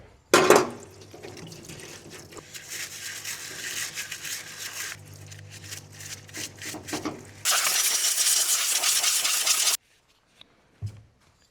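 A wheel loader part is washed under running water, with a loud clatter at the start, an uneven splashing flow, then a harder, louder gush that stops abruptly before a brief knock.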